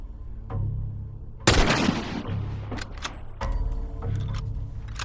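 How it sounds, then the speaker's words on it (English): Gunfire from the video game The Last of Us: a loud burst of shots followed by several sharper single cracks and a later volley, over a steady low game soundtrack. "I'll shoot back at you, punk."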